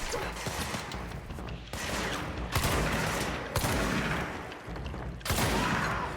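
Rapid gunfire erupts in bursts during combat in the video game Control, loud sharp volleys with brief pauses between them and no voices over the shooting.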